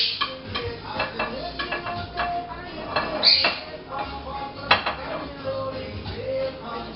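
A knife cuts through cooked barbecue ribs on a board, with soft repeated chops and scrapes, a couple of sharper metallic clinks, and a person talking now and then in an indoor kitchen.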